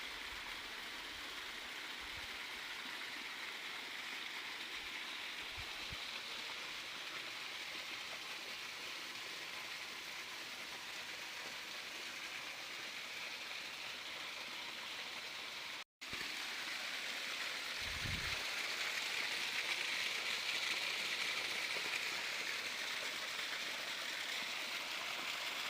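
Natural spring water flowing at Haripur, a steady soft rushing and trickling wash that continues evenly throughout, with no talk.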